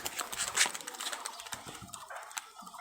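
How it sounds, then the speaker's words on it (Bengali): Male ghon-baji rolling pigeon among other birds, soft low cooing at moderate distance under brighter chirps and scattered rustling, fairly faint overall. "এটা ঘনবাজির একটা কবুতর"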